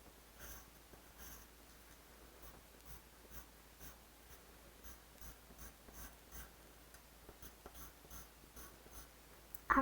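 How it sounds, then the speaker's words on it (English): A marker tracing over a pencil drawing makes faint, soft scratching strokes, repeated in short bursts with brief pauses, close and quiet in a still room. "I'm going to trace it with marker."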